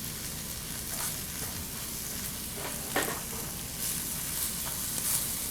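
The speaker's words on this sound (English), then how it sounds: "So we're going to give them a little sizzle in here." Spices including cumin sizzle and fry in a hot pan, a steady close crackle with a few sharper pops and stirring sounds, no talking.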